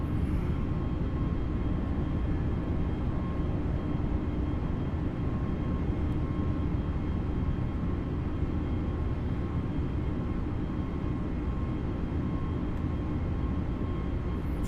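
Airbus A320neo climbing out after takeoff from Malaga: a constant, even roar of engine and airflow noise inside the aircraft, unbroken and moderately loud for the whole stretch.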